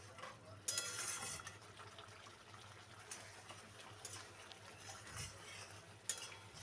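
A spoon stirs egg curry in a pan, giving soft scraping and clinking against a steady low sizzle of cooking, with a few sharper metallic taps.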